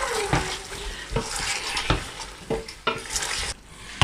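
Onions for an aloo chicken dish are stirred in a sizzling frying pan; a spoon scrapes through them in repeated strokes about once a second over a steady crackle of hot oil, close and moderately loud, with no talking.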